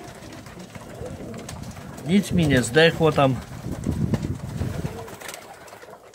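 Young ornamental pigeons in a loft give a run of cooing calls, loudest in the middle, as someone speaks over and around them.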